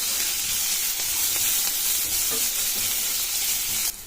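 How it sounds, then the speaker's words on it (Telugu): Fenugreek leaves sizzle and fry in a pan while being stirred, a continuous close hiss with soft scraping, cutting off abruptly near the end. "మెంతం కూరలోని పచ్చివాసన పోయే వరకు మనం కలుపుకొని పెట్టుకోవాలండి"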